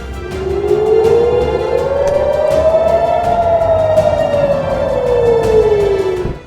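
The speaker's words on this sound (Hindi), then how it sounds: "इजराइल के उत्तरी इलाकों में हवाई हमले के सायरन बजने लगे।" An air raid siren sounds across northern Israel, one loud steady wail rising slowly in pitch and then falling away, with no other voices.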